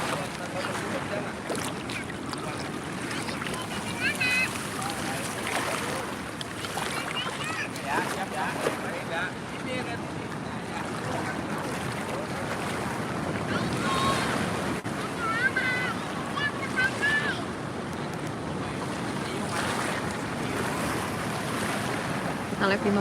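Morning surf rolls steadily onto Sawar beach, a continuous wash of waves mixed with wind buffeting the microphone, and voices occasionally talk over the ambience.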